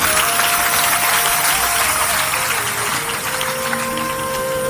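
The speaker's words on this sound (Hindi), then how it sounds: "आपकी ताली बज गई है" An audience at a devotional satsang claps continuously, a dense, loud applause sustained throughout, with faint tonal hum beneath and no speech.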